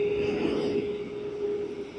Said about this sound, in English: Emirates A380 service to Christchurch.